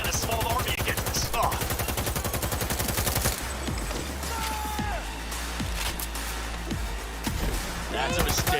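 A shootout in the video game Cyberpunk 2077 brings rapid automatic gunfire in a dense staccato burst, then scattered heavy shots and impacts over a low rumbling game soundtrack, loud and close, with voices calling out amid the action.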